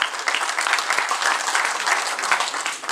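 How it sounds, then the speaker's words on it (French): Audience at a political gathering on the Tshisekedi–Kabila dialogue applauding, a dense, even burst of many people clapping, loud and continuous for about three seconds with no talk. "On applaudit pour ces messieurs-là aussi."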